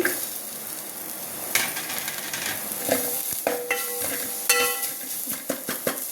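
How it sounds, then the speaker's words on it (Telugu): Onion pieces fry with a steady, close sizzle in a pan, stirred with a spoon in repeated scraping strokes and occasional clinks, part of cooking a raw cucumber curry with tomato. Nobody speaks. "ఈ వేగిన దాంట్లో ఫస్ట్ మనము ఈ ఆనియన్స్ ముక్కలు వేద్దాము"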